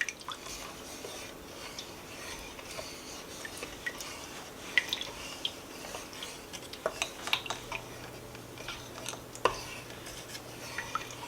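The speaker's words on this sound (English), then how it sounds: "we're going to mix this all together" A pot of Tuscan vegetable soup being stirred, with scattered clinks and scrapes of a utensil against the pot over soft liquid sloshing and drips, close and quiet, no voices.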